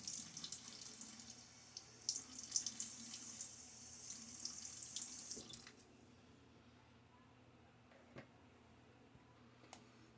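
A bathroom tap runs in a steady hiss while a face is wetted before a shave, then shuts off after about five seconds, leaving a quiet room with a few faint ticks and clicks.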